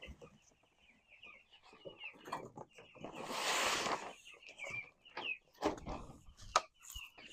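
Meat chickens on a farm cluck and chirp in short bursts amid scuffling and a rush of noise, with faint human voices now and then in the background.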